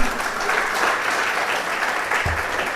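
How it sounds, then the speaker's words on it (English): A lecture audience gives a round of applause to a professor after a university Vice-Chancellor's lecture, sustained, even clapping from a sizable crowd, moderately loud and uninterrupted by speech. "So another round of applause for him."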